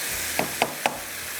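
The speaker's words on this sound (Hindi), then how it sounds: "सिर्फ हाई फ्लेम पे इसकी भुनाई करनी है।" Onion tarka fries over a high flame, giving a steady soft sizzle with three quick knocks or stirs against the pan.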